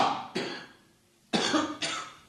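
A person coughs in two pairs of harsh, raspy bursts close to the microphone, with a short silence between each pair.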